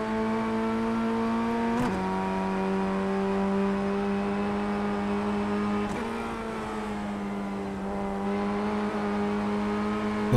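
Formula Ford race car engine in iRacing at Summit Point, a steady loud drone at near-constant revs with two brief gear-shift dips, alone without talk.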